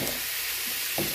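Vegetables fry in oil in a home kitchen, giving a continuous bright sizzle with brief stirring scrapes. Nothing else is heard in this short moment.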